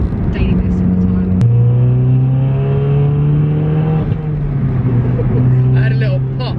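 Audi S1 with roughly 300 bhp, stanced, running a pop and bang exhaust map, its engine revving up and holding a steady high note before easing off, loud and close, with voices talking over it.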